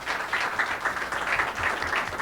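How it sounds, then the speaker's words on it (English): Steady applause from a conference audience at a panel discussion fills the short stretch, with dense overlapping clapping at moderate volume and no voices. "Can we get a big round of applause over here?"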